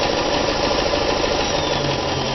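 Vintage Kenmore 158.14100 sewing machine running a small zigzag stitch, a steady, dense mechanical whir and rapid needle chatter that stays close and constant with no pauses.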